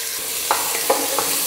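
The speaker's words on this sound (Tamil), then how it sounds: "வெங்காயம் சேர்த்து கொஞ்ச நேரம் நல்லா வதக்கிடுங்க." Onions sauté in hot oil in a pressure cooker with a steady, loud sizzle and a few soft stirring taps.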